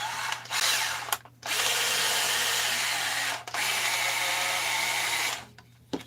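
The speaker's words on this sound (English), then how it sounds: "So you can get these ball Scotch-Brite things and then just put a bigger piece of Scotch-Brite in there if you want." A cordless drill whirs steadily as it spins a Scotch-Brite ball pad, running in long bursts with brief pauses between them and a tonal hum underneath.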